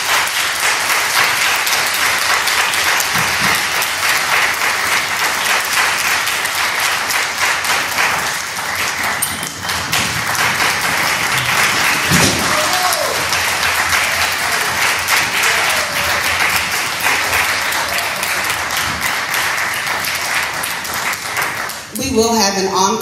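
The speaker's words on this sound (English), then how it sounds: "please let's give them a round of applause" A concert audience at Allen University's 2019 Board of Trustees concert breaks into loud, sustained applause, a dense wash of clapping that carries on without a break for over twenty seconds.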